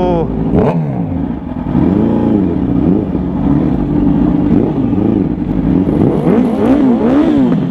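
An old-model Yamaha R1 sport motorcycle engine revs repeatedly, pitch rising and falling in quick bursts, loud and close, with no talking.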